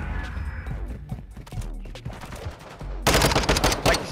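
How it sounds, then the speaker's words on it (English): Rapid video game gunfire rattles through a wall in bursts of sharp shots, growing louder and denser in the final second, with no voices over it. "he's shooting Hera through the wall"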